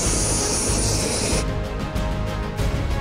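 A helicopter arrives in Bali, its rotor and turbine roar loud and continuous, with a high whine fading out partway as the thudding blade rhythm carries on.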